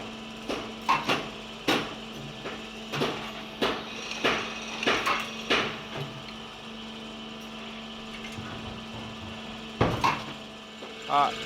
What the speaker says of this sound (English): This is the riveting line.